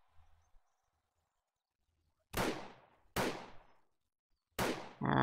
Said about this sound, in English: I'm gonna shoot it in the head.